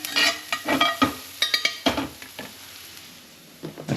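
Food for egg fried rice gets stirred in a hot frying pan: quick bursts of spatula scraping and tossing over a soft sizzle, which fade into a quieter stretch before one more short scrape near the end.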